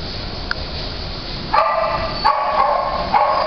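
Dogs in an animal shelter: a few sharp barks ring out over a steady kennel hum and rumble, one faint yelp early and then three louder barks, spaced apart and moderately distant.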